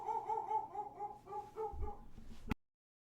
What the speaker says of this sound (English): we're just going to have to deal with the barking in the background